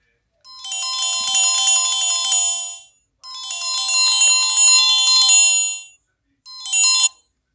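A mobile phone plays its built-in "Ring 2" ringtone, a bright, chiming melodic pattern repeated in two long bursts and a short third one, close and clear with silent gaps between.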